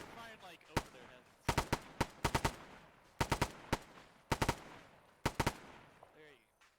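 Machine gun firing in Arma 3, sharp loud bursts of several rounds each, repeated in irregular volleys with short pauses between, close to the listener, with brief voice chatter in between.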